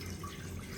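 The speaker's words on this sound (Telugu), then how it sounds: "ఇప్పుడు వచ్చేసి ఫస్ట్ ఈ వాటర్ పోసేసుకుంటాము" Water is poured into a cooking pot to make khichdi, giving a soft, continuous liquid rush that stays close and fairly quiet throughout.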